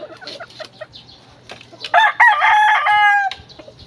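Gamefowl roosters, Larry Romero Raptor Sweater and Joe Goode Grey fighting cocks, clucking in short bursts before one crows loudly and close in a long drawn-out call, with a faint low hum behind.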